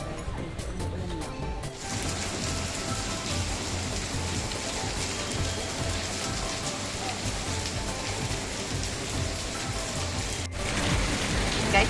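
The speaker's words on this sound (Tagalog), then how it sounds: "Ay, umuulan lang." Steady rain pours down in Chinatown, Singapore, a dense hiss of drops hitting surfaces, continuous and fairly loud throughout with no voices.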